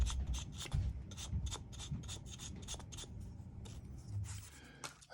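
Knife handle scales on a KnifeKit Stinger framelock are sanded by hand with 150-grit sandpaper in quick, rhythmic back-and-forth rasping strokes, close and fairly quiet, with the pace slowing near the end.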